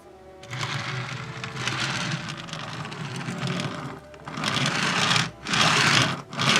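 A small model railroad car rolls along rails littered with debris, giving a continuous gritty clatter and rattle with slight uneven bumps, close and fairly loud, with no talking.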